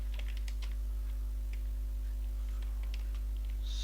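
Code is typed on a computer keyboard, soft scattered key taps at an uneven pace over a steady low electrical hum, with no talking.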